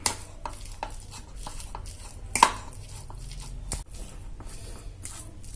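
Leftover cabbage, soya and potato vegetable curry being mashed in a pan, soft squishing and scraping strokes with occasional sharp clinks of utensil on metal, close and fairly quiet.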